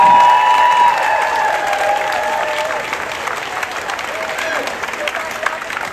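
Sustained applause and cheering from a crowd at a Rhode Island abortion rights gathering, honoring elected officials; steady dense clapping with a few voices rising through it, holding for several seconds.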